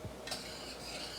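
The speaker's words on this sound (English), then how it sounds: "Stir it up." Rice being stirred in a pot on a stovetop, a short scraping swish of the spoon over a steady low simmering hiss, close and fairly quiet.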